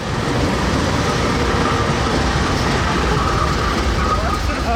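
A steam train, Norfolk & Western 611, rolls steadily along the rails with a loud, continuous rumble and a faint clatter of wheels.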